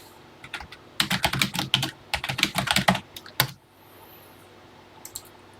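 Rapid bursts of key presses on a TI-99/4A home computer keyboard, close and distinct clicks in uneven runs with short pauses, then quiet.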